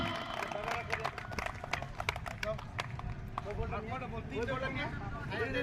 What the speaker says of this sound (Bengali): জোরে হাততালি হবে একবার।